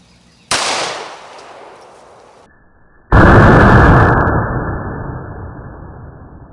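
A sealed bottle of super-oxygen bathroom cleaner bursts outdoors with a loud pop and rushing hiss, and a bigger, louder explosive blast follows about three seconds later and slowly fades.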